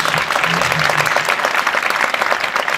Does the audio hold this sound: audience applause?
yes